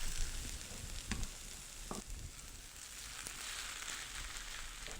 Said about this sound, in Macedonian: Сега го пржнуете до моментот да испари алкохолот